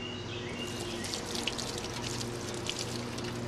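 Freezing water pours and splashes over puppets in a steady, hissing stream that holds at an even loudness throughout, with no voices.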